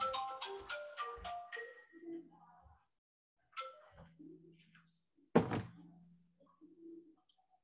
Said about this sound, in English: I forgot to put my phone on silent mode